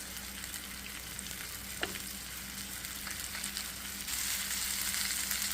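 Black pomfret fish fries in oil in a pan with a steady, dense sizzle and crackle throughout. The frying grows slightly louder toward the end, with one soft clink partway through and no speech.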